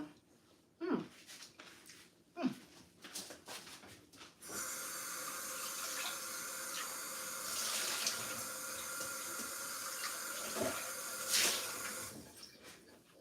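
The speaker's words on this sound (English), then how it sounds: "So I rinsed my initial bowl." Tap water runs into a kitchen sink as a bowl is rinsed, a steady hiss of flowing water after a few light clunks and knocks, fairly faint and close.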